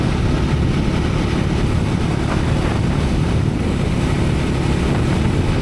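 A Triumph Scrambler 400X motorcycle cruising steadily at 45 mph in sixth gear, around 3,800 to 3,900 RPM, its low engine drone buried under constant heavy wind rush from riding at speed.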